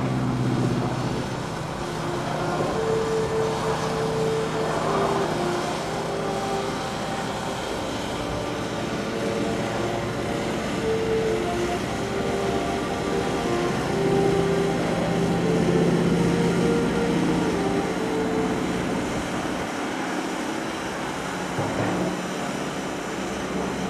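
Aerobatic airplane flying a four-point roll during the 2008 AirPower Over Hampton Roads airshow, a steady, continuous engine drone at moderate distance with slight pitch shifts, sustained throughout without speech.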